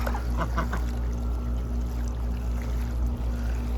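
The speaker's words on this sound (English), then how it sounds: "I love these big old white ducks. They're jumbo Pekin ducks." Jumbo Pekin ducks, big white domestic ducks around a pool, give a few quick quacks early on against a steady, loud rush of running water or machinery that fills the rest.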